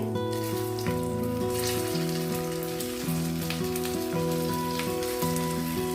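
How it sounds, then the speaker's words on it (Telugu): Idlis fry in hot oil in a pan, a steady crackling sizzle running beneath louder background music for the whole stretch. "ఆయిల్ కాగిన వెంటనే మనం ప్రిపేర్ చేసి పెట్టుకున్న ఇడ్లీస్ దీంట్లో వేసి ఫ్రై చేసుకోవాలండి"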